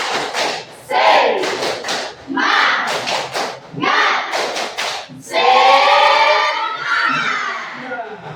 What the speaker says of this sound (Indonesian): Nah, tepuk semangat.